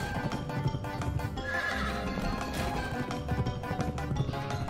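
A horse in the video game Pumpkin Jack whinnies loudly over hoofbeat clip-clops and busy game sound, with the neigh rising clearly near the middle.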